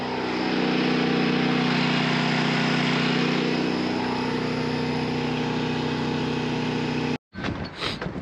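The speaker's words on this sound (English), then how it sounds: "Airing up the tire." A truck tire is aired up by a compressor that runs as a loud, steady mechanical drone with a constant motor hum, then cuts off abruptly near the end, followed by brief rustling noises.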